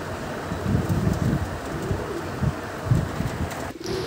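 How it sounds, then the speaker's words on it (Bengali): Allahabadi Kaldum pigeons coo in low, repeated throaty bursts close by, several birds overlapping over a steady background hiss. "দেখো দাদার বাড়ি এলাহাবাদি কালদম লাইনের পায়রা"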